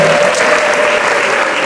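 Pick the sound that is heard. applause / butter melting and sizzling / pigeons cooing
applause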